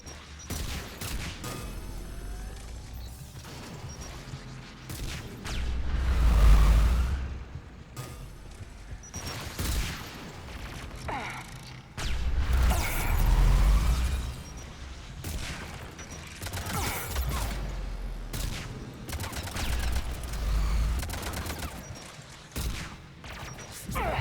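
Repeated bursts of gunfire in Mass Effect 3 combat, with heavy booming volleys and steady shots running throughout, loud and dense with no talking.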